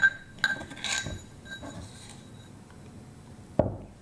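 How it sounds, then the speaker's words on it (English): Metal cutlery and dishes clink as a teaspoon is grabbed in a kitchen while making crepes: a few light, bright taps and rattles near the start and a sharper clink toward the end, otherwise quiet. "Let me grab my teaspoon."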